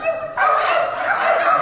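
People imitate coyote barks together, a loud burst of yelping, barking voices that starts abruptly and carries on for over a second.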